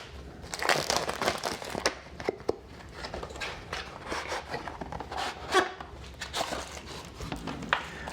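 FiiO UTWS5 true wireless earbuds packaging being opened, with close, repeated crinkling and crumpling of wrapping and box material in irregular bursts, no talking.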